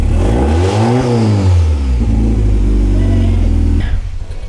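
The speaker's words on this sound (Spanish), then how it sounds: "Voy a pegar un acelerón para ver cómo reacciona ahí la chispa." A car engine with a misfire and spark problem is revved hard, its pitch rising and falling loudly up close before settling into a rough, uneven drone and then cutting out.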